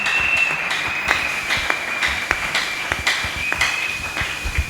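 A church congregation applauds together, a dense, steady wash of clapping with a faint ringing tone held throughout.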